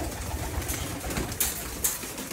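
Male Teddy pigeons cooing in a loft in Oman, a few soft throaty coos with brief sharp rustles or wing flicks, close by against a busy background.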